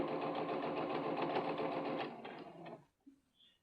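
A sewing machine stitches fabric in a fast, continuous whirring run lasting under three seconds, fairly close and moderately loud, then slows and stops, leaving near silence with a faint click.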